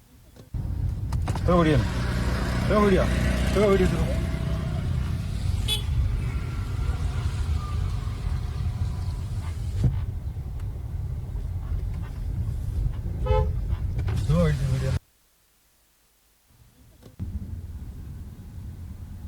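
A car horn honks in Bangalore road traffic, with repeated short toots over loud engine rumble and voices, then a brief drop to near silence before the traffic noise returns.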